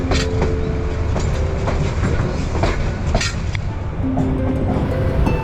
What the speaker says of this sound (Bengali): হুইসেল দেওয়ার সাথে সাথেই ট্রেনের যাত্রা শুরু হলো।